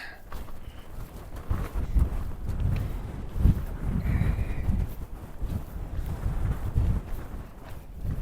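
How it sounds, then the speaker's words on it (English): Heavy wind buffets the microphone throughout, producing loud, gusty low rumbling that swells and fades without any other clear sound. "It's really windy up here, so I hope you guys can hear me."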